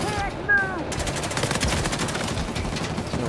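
Rapid automatic gunfire from an Uncharted 4 multiplayer match, with dense overlapping shots crackling steadily for the whole span at fairly close range.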